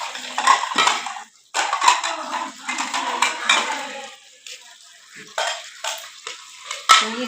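Dishes, pots and utensils clatter and clink as they are scrubbed and washed by hand in a home kitchen, in repeated bursts of close, bright metallic knocks with brief pauses between.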